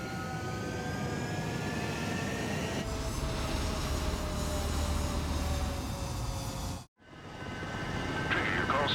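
Fighter jets taking off from a runway in Ace Combat 7 during the Charge Assault mission, with a loud, steady engine roar that rises and sweeps, a brief cut, then more jet noise. Radio voices talk over the engines.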